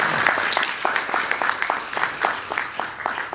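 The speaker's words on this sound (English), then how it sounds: "Ladies and gentlemen, the National Labour Commission, a round of applause." Audience applause at a CEOs' human resources forum, a moderate round of distinct, fairly sparse claps from a smallish crowd that keeps going for several seconds without talk.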